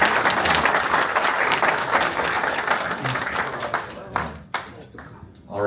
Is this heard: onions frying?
no